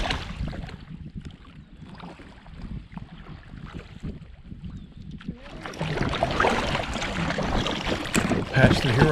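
Kayak paddling on the North Branch of the Susquehanna River, with soft irregular paddle splashes and moving water over steady wind, growing louder and busier toward the end.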